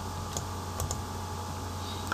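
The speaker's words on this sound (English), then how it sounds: "Let's double click on the search" Computer mouse double-clicked on a desk: two quick, faint clicks close together, repeated a couple of times over a steady electrical hum, with no talking.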